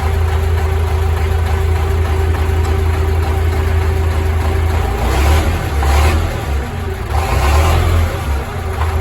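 A YUMZ-6AKL tractor engine runs steadily close by, a loud, continuous low diesel rumble with a few swells in revs partway through, no talking over it.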